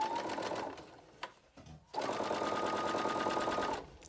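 A sewing machine runs a narrow top stitch around a fabric hair scrunchie, whirring steadily and close in two sustained bursts separated by a brief pause.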